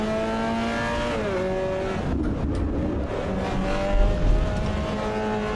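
Race car engine under throttle in the Assetto Corsa Evo driving simulator, a steady loud drone with rising and falling revs, brief gear-change dips and a hint of tire slip, continuous with no talk.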